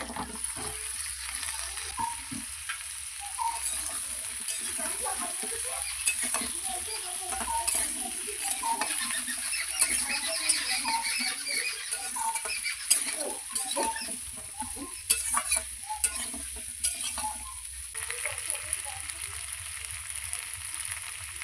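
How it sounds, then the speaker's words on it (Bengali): Pre-cut potatoes hit hot oil alongside pointed gourd for a rohu fish curry, a steady close sizzle with scattered crackles and stirring scrapes throughout, and faint clucking chickens in the background. "এবার দিয়ে দেবো আগে থেকে কেটে রাখা আলুগুলো"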